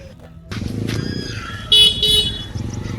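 A motorbike engine rumbles close by and grows louder as it approaches, with two short horn toots partway through.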